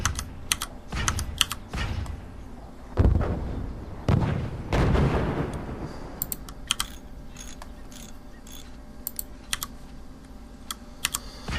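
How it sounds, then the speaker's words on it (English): Mortar fire from three mortars in the game Forts, heard as a run of sharp launches and heavy booms in the first half, then scattered lighter impacts and clicks over a steady low background hum. "So let's demonstrate with 3 mortars."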